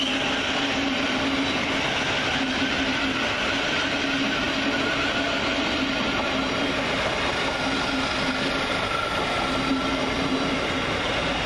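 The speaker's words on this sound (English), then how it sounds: "The return now of 700-127, working the 1111 Govia Thameslink service from Brighton to Bedford via London" A Class 700 Govia Thameslink electric train runs through Burgess Hill station, a steady loud rumble and hum sustained throughout with rail noise and no voices.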